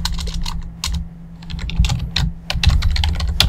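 Rapid typing on a computer keyboard, a steady patter of close, crisp key clicks with short pauses between bursts, over a low constant hum.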